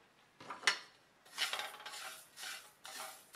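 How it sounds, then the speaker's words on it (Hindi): Whole coriander, fennel, fenugreek and mustard seeds are dry roasted in a kadhai, stirred with a metal spoon, giving soft scraping and rattling strokes at an irregular rhythm, close and fairly quiet. "इन सबको हमें ड्राई रोस्ट करके तैयार करना है।"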